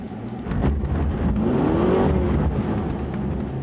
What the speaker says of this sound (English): See the way the engine revved up and I still had control of the whole car?